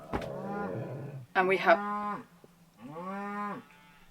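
Cows moo three times in succession, loud and fairly close, each low drawn-out call separated by short pauses.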